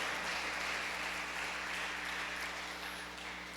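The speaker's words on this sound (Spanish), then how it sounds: "Regalemos nuestro fortísimo aplauso a nuestro Dios." A church congregation applauds together in a steady, dense wash of clapping that holds fairly loud for several seconds, then eases slightly toward the end, with no talk over it.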